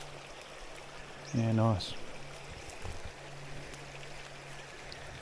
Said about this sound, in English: You can hear a little Donny Brook.